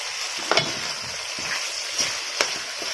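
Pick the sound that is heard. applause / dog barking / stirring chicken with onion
stirring chicken with onion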